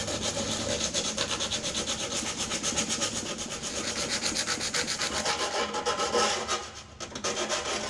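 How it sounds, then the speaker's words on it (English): Close, rhythmic hand sanding with 80 grit sandpaper scours E-coat off bare metal in quick back-and-forth rasping strokes, with a brief pause near the end and no talking. "what I can't get with the belt sander, I'll take 80 grit and I'll do it by hand"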